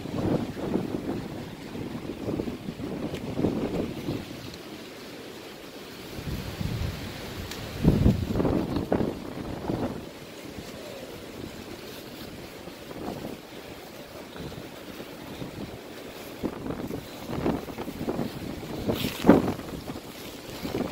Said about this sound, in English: Windy day in paradise.